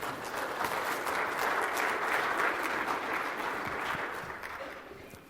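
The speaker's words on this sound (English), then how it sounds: "Let's give Pam another round of applause." Sustained applause from a seated audience at a leadership talk, steady and moderately loud for several seconds before slowly fading.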